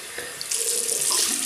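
Water runs steadily from a tap during rinsing after a shave, a close, loud splashing hiss that swells slightly partway through, with no voices.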